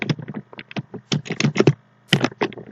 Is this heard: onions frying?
no